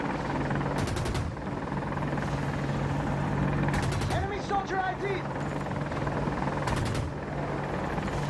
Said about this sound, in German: Heli kommt